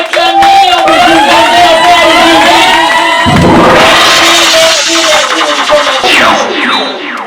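Crowd cheering and acclaiming at a royal birthday celebration for an honourable lady, a loud continuous roar of many voices with shouts and whistles rising midway, sustained throughout.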